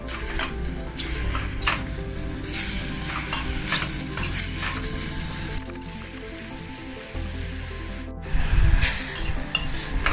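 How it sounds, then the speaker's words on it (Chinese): King oyster mushrooms stir-frying in a hot pan, a steady sizzle with repeated scraping and stirring strokes, close and continuous with no talk, getting louder toward the end. "就可以把这些切好的杏鲍菇放进去， 好，让它先炒1-2分钟"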